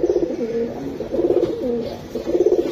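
Yellow-coloured pigeons kept for sale coo close by in repeated throaty bursts with short pauses between them, and nobody talks.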